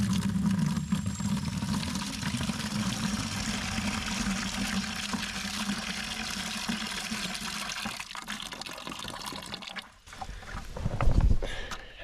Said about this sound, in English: We put this external tap out here just so that we could get some water going